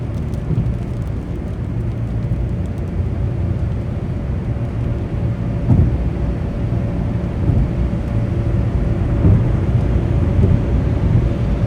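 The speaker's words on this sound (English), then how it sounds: "I literally drive in the middle of a thunderstorm" Steady heavy rumble of a car driving through a thunderstorm in New York, a dense low roar of rain and road noise throughout, with a few faint thuds rising above it and no voices.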